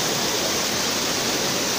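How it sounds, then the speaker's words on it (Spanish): Steady rushing flow of water at the basalt prisms of Huasca de Ocampo, Hidalgo, a dense, even roar like a waterfall filling the whole clip with no voices. "el relajante sonido del agua"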